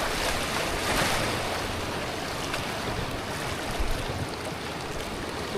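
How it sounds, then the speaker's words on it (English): A waterfall beside a jungle river pours in a steady, broad rushing roar that fills the scene without pause, with no voices over it. "Waterfall."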